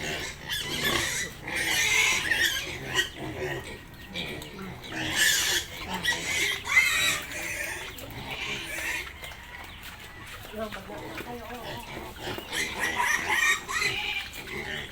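Pigs grunt and squeal near chickens clucking on a farm while they feed on food that includes fruit. People talk intermittently over the animal noise.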